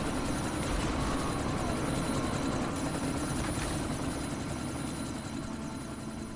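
A helicopter thrums steadily in the game Deus Ex Mankind Divided, its rotor beat a dense, unbroken low rumble amid a sandstorm, loud and constant without speech.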